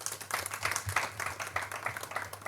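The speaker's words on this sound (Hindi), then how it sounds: "तो क्यों ना इस समय हम वर्शिप टीम के लिए भी जोरदार ताली बजाते हैं।" Faint, distant clapping from a congregation at a Good Friday church service, applauding the worship team in a soft, uneven patter that stays low throughout.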